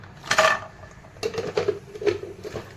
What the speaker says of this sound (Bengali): প্রথমে বড়ি ভেজে নেব।